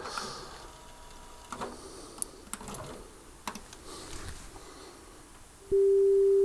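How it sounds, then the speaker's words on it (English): An Axia PS1 cassette in a cassette deck being calibrated: scattered mechanical clicks and taps first, then a steady, loud continuous test tone starts abruptly and holds to the end. "So I've just got this calibrated, so test tones come in."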